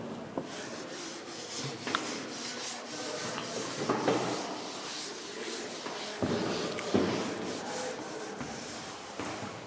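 Writing being rubbed off a board in a lecture room: close, uneven scrubbing strokes in short bursts with brief pauses between them.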